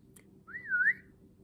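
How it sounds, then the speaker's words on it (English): A single human whistle for a waiter in a restaurant: one short rising-and-falling note, clear and moderately close, against a quiet low background. "someone whistled for a waiter"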